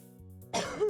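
A single sudden, harsh cough from one person bursts out after a moment of soft, steady tone in the background.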